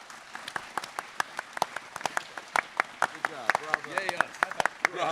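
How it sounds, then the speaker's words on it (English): An audience at a convention Q&A panel claps, with sparse, distinct individual claps at a steady patter, fairly faint and under a murmur of voices. "massive round of applause for these guys."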